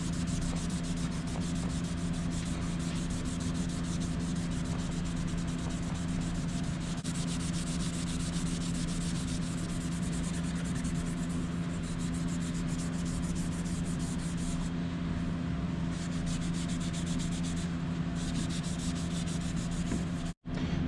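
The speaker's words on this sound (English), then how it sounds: "I'm gonna try a little bit coarser of a Scotch-Brite and see if that makes it any better" A Scotch-Brite pad is rubbed by hand over a Warn winch part being polished, giving a steady, continuous scrubbing rasp close by, with no talking.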